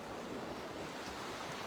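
Sea waves wash steadily on a beach, a soft continuous hiss of surf with faint wind, distant and even throughout.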